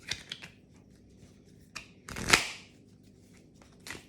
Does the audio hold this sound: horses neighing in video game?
no